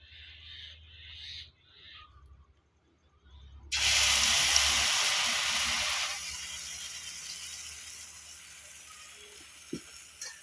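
Food dropped into hot, shimmering oil sets off a sudden loud sizzle that fades to a softer crackle, after a few quiet scrapes and clinks; no talking.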